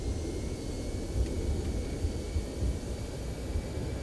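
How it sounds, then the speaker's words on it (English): A Toliss Airbus A319 in X-Plane 12 roars with thrust reversers at full on landing, producing a loud, steady broadband rumble and hiss. "So it went right to reversers full."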